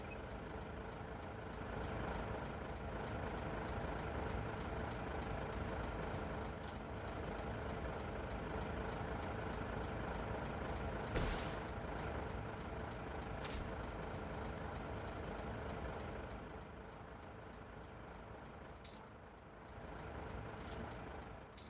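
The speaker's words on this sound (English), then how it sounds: "That truck is about to move out." A truck rumbles and idles in a Marvel's Midnight Suns battle scene, steady engine drone with occasional hissing air-brake bursts, loud and continuous throughout.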